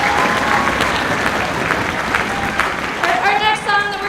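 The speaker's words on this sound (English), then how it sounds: "Let's give them one more round of applause." An audience at a sixth grade orchestra concert claps loudly and steadily in a dense, continuous round of applause, with a voice briefly audible over it near the end.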